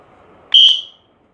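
A single electronic sports whistle gives one sharp, loud, high-pitched chirp lasting about a third of a second, clear and close against a quiet background.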